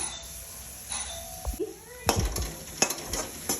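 Cooked sprouted horse gram is tipped into a pan and stirred, with a few clattering scrapes and clinks of a utensil over a faint sizzle and a quiet hum.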